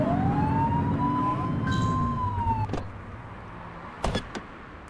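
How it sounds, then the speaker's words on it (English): A police car siren in the video game The Precinct winds up in a rising and falling wail, loud and close, then cuts off, followed by a couple of sharp clunks. "Get behind them and flip the siren and make them pull over."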